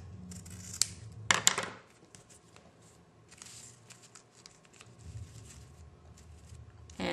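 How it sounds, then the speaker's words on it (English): Scissors snip through ribbon tails while finishing a handmade envelope card, a couple of sharp close snips followed by quieter rustling and handling. "Get my scissors,"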